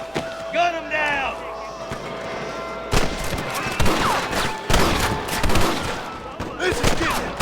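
Gunfire rings out in Red Dead Redemption as rustler guards are fought: several sharp shots in an irregular burst, some close and loud, mixed with shouting voices and a horse whinny early on.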